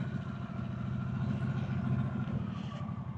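Harley-Davidson Sportster S 1250 idling at a gas station, a steady low rumbling engine with an even pulsing beat, close and constant.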